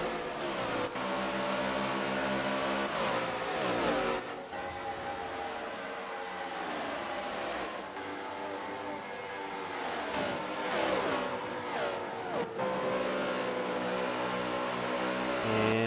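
NASCAR race cars at Homestead-Miami in a racing video game drone and whine continuously, engines easing off throttle and dipping in pitch as several cars run together in wet, foggy conditions, with no talk.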